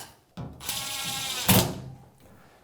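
A ratchet driver whirs and clicks while backing out screws on the rear of an Electrolux dryer, model EFME527UIW0, in short close bursts with a louder clunk midway and no talking.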